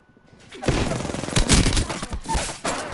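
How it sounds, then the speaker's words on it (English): Loud sustained gunfire in a video game shootout, rapid overlapping shots and thuds building after a quiet start and continuing as a dense volley. "They're shooting at me."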